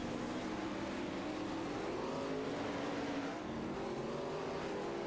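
Race cars roar on a dirt track at a special event in Fairbury, a dense, continuous engine drone with layered exhaust tones swelling and fading as cars pass, loud and steady throughout with no speech.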